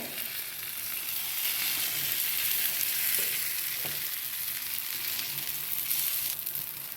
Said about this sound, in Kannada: ಇದನ್ನು ಕಾವಲಿ ಮೇಲೆ ಹಾಕ್ಕೋಬೇಕಾಗತ್ತೆ. ಕಾವಲಿಗೆ ಸ್ವಲ್ಪ ಎಣ್ಣೆ ಹಚ್ಚಿಟ್ಕೊಂಡಿದ್ದೆ.